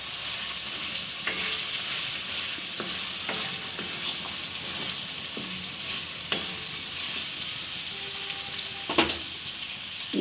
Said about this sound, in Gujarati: થોડાક આપણે લીલા ધાણા નાખશું થોડાક આપણે ઉપરથી નાખવા રાખશું બધું મિક્સ કરી લેવું